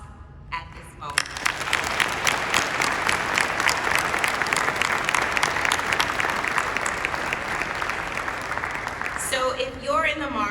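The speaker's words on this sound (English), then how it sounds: "please join me in giving them a huge round of applause at this moment" A tech conference audience breaks into a big round of applause after an announcer's voice, dense sustained clapping filling the hall before a speaker resumes at the end.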